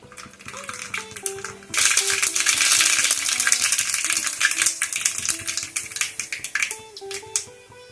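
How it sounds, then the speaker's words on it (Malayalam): Mustard seeds dropped into hot coconut oil in a pan, a sudden burst of dense crackling and popping that settles into a steady sizzle, close up, with some light background music. "കടുക് ഇട്ട് കൊടുക്കാം"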